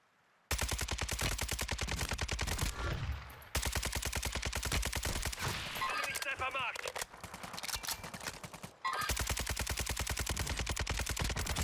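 Rapid automatic gunfire in the battle royale game Warzone 2.0, long sustained bursts of dense, loud shots with brief pauses between strings, occasional quieter gaps and a faint voice underneath.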